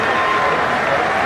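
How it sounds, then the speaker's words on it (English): Cricket crowd applauding a batsman's fifty in a Test match at Perth against Australia, a steady broad wash of clapping and murmur, dense and continuous with no single voice standing out. "Generous applause there"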